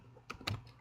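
A few quick keystrokes on a computer keyboard, two or three close clicks in a brief burst against a quiet background.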